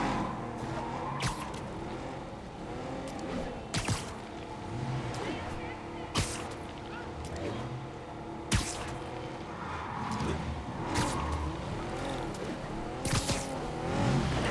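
Car engine and road noise in the Marvel's Spider-Man video game, a steady motor hum running throughout with sharp impact bangs at intervals, with voices talking over it.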